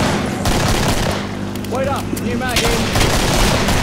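Rapid bursts of Killing Floor gunfire crackle through a dense, noisy mix, with someone talking in Thai over the shooting.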